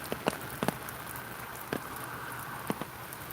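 Night rain falls steadily outside as a faint, even hiss, with a few scattered soft drips and taps standing out over the patter.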